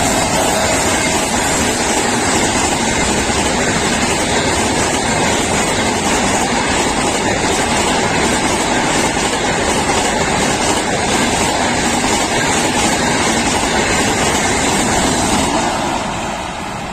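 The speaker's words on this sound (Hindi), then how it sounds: "सामने से ट्रेन आ चुकी है" A train rushes past at speed with a loud, sustained roar and rattling wheel noise that stays close and constant, easing off only at the very end.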